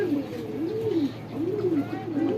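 Pigeons coo nearby in a rooftop loft in low, rolling calls, two or three drawn-out phrases repeating over a faint background hum.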